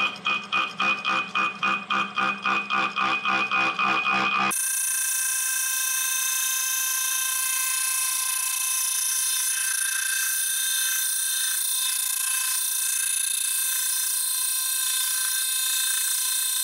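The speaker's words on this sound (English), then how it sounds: "You can hear that cutting quite a lot heavier there." Small cutter taking a heavy cut through metal with cutting oil applied, first a rapid rhythmic chatter of teeth for a few seconds, then a steady loud high-pitched whine and ringing that holds to the end.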